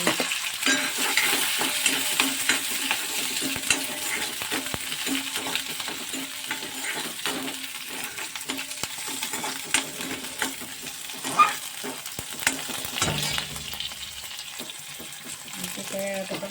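Chopped onion and green chili fry in a pan of oil with mustard seeds, a continuous sizzle with frequent clatter and scraping from stirring, while someone talks faintly at times in a home kitchen.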